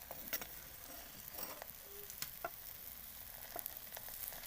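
Potato paratha frying in ghee on a pan, a faint steady sizzle with scattered light crackles and pops throughout, no voices.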